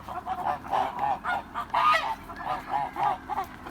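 Kholmogory geese about four to five months old honk in a rapid, irregular series of nasal calls close by, with no talking.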